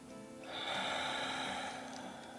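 A single slow, deep breath during an evening yoga flow, a soft airy inhale swelling and fading, close and alone.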